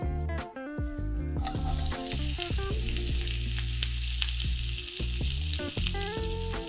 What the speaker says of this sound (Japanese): スパイスたちの香りが出てきたら玉ねぎを加えます。